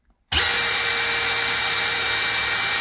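Milwaukee Gen 4 hammer drill starting abruptly after brief silence and running at full speed on a workbench, a loud, steady, close-up high whine held to the end.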